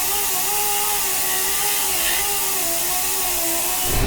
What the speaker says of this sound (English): So we're going to take care of that right now and sand it down,